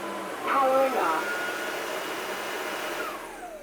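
A MOVA M10 wet dry vacuum runs with a steady motorized whine that swells briefly and then seems to wind down toward the end, while a person speaks.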